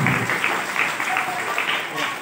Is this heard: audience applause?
yes